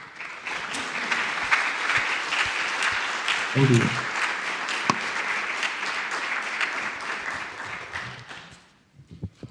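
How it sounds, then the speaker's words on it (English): An audience applauds after a museum conference talk on NFTs, the clapping loud and sustained before tapering off near the end, with a brief voice speaking over it. "Can we give him another round of applause?"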